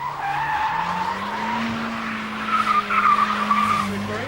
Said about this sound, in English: give it some big right hand lock and flick the handbrake on